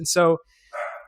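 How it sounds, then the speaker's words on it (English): A dog gives a short bark in the background of an indoor interview, a single quick burst followed by a voice. "apologies for my dog."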